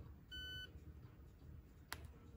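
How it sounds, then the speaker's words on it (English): A Hobbywing brushless ESC for an RC vehicle sounds a short, quiet electronic beep of a few tones once when switched on, followed by a faint click, over a low background hum. "Turn ESC on. It'll bleep, start flashing red."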